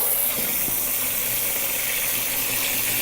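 Garden water pours into a small dunk tank holding an iPhone 8 and an iPhone 7, making a continuous, close, hissing gush that stays even for a few seconds.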